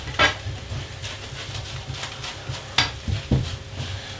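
Previously cooked noodles are pushed and stirred into a hot pan with the rest of a Thai green chicken curry, giving a steady sizzle broken by a few scraping clatters of utensil against pan.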